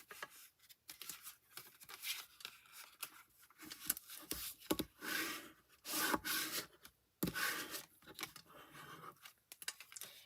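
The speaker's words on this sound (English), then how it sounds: "Give it a good burnishing." Card stock being burnished along a scored fold, heard as repeated close dry rubbing and scraping strokes in short bursts, with no talking.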